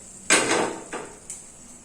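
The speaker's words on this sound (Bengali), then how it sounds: "এবার সব সবজিগুলো মশলার মধ্যে দিয়ে দিতে হবে।" Vegetables tipped into masala in a metal kadai while cooking kadai paneer: a loud clattering scrape and rattle of food and utensil against the pan, a second shorter scrape, then a faint clink, close and with no voice.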